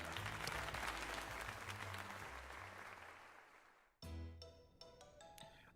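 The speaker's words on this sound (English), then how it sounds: "let us give another heartfelt round of applause to Raptor" Applause in the Pokémon Legends Z-A video game, a sustained crowd clapping that slowly fades and is cut off by bright chime-like tones near the end.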